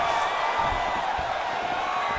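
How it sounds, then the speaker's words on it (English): An arena crowd in the fighting video game EA Sports UFC 4 roars after a round, a loud, dense, sustained wash of cheering and noise with no pauses. "So the crowd voicing its appreciation after that round."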